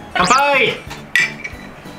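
Drinking glasses clink once in a toast over a home meal of sweet-spicy simmered burdock. The bright, ringing tap is close and follows a loud vocal exclamation.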